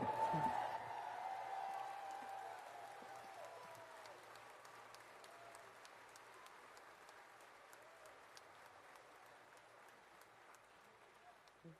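A crowd at a campaign rally in a high school basketball gym bursts into applause and cheering, loudest at the start and then gradually thinning into a long, fading patter of scattered clapping.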